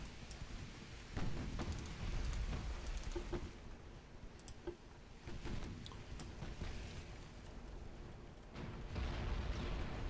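Naval gunfire and shell impacts in the warship game Ultimate Admiral: Dreadnoughts: a series of heavy, rumbling booms and bursts over a continuous low background roar, some hits sharper and nearer, with no talking.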